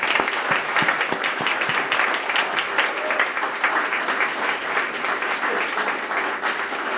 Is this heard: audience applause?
yes